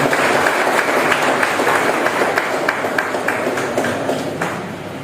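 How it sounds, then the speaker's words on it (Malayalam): An audience at an education award distribution ceremony claps steadily in a dense, continuous patter of many hands, loud at first and gradually tapering off toward the end. "ഒരു കയ്യടി കൂടി."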